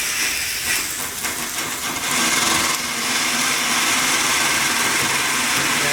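Model live steam engine running at a virtual steam-up event, giving a steady loud hiss of escaping steam with a faint mechanical rhythm throughout, growing fuller after the first couple of seconds.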